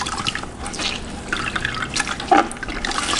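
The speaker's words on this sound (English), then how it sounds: "put it in my rinse bucket. I'm gonna rinse it out a little bit." A wash towel is sloshed and rinsed in a rinse bucket of water during a rinseless car wash, with close, wet splashing, dripping and swirling sounds that rise and fall unevenly, without any speech.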